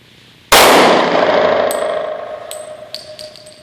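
A single sharp, loud handgun shot rings out, its metallic ring slowly decaying, followed by a few faint clinks.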